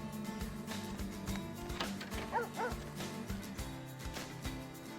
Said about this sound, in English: You can actually hear the dog barking.